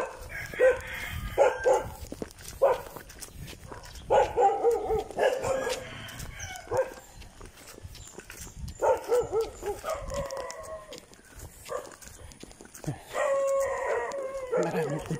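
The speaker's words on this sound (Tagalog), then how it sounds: "Marami po dito aso." Several dogs bark and howl in bursts at a moderate distance, overlapping one another, with a rooster-like crow among them and quiet gaps between outbursts.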